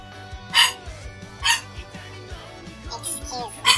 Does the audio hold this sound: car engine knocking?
no